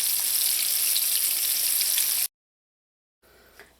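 Fish pieces sizzle loudly in hot oil with a dense, crackling hiss, which cuts off abruptly to silence and then resumes faintly near the end.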